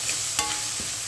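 Masala of turmeric, chili, coriander, ginger, garlic and chopped onion sautés in a pan. It gives a close, continuous sizzle with a soft stirring scrape or two.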